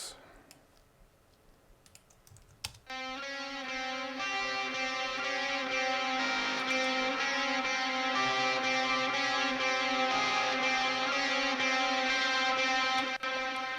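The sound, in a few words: distorted electric guitar melody fading in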